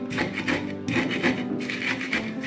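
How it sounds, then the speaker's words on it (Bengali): Dried chilies are ground for a dried fish bharta on a bamboo grinding board, making a close, rhythmic scraping and rubbing with repeated strokes. "এটা ভালো মতো মরিচটাকে আগে বেটে তারপর মাছগুলোকে এইভাবে"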